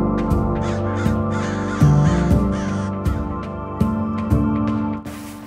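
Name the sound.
crows cawing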